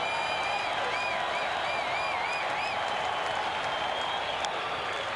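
A baseball stadium crowd cheers and applauds at a 1988 St. Louis Cardinals versus Chicago Cubs game in the ninth inning, a steady distant roar with shrill whistles rising above it.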